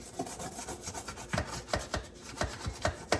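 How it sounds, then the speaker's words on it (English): A brush scrubs grime inside a dishwasher in quick, uneven strokes, a close scratchy rasp pulsing several times per second. "I have my brush and I'm just going to clean and scrub all this"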